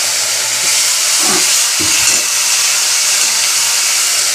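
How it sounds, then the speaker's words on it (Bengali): Garlic paste, ginger, tomato, onion and green chilli sizzle in a hot pan with a loud, steady hiss. A few short scraping strokes of the stirring spoon rise over the frying. "5 সেকেন্ড নেড়ে নিই।"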